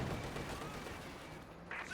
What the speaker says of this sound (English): Like a mix of gunfire and rain, like from a machine gun.